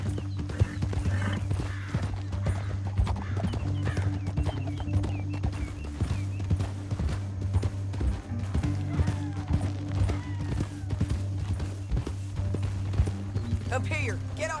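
Horse hooves clip-clop steadily in Red Dead Redemption 2, a continuous rhythmic trotting heard close by under a low mechanical hum.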